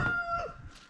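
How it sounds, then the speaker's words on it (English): Rooster crowing inside a chicken coop under a heat lamp, one short, clear call that fades out quickly. "There's that rooster. He's saying he's got nothing more important to do than make noise."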